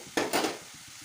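Curry leaves dropped into hot oil, two quick loud crackling bursts back to back that fade into a softer sizzle within about a second.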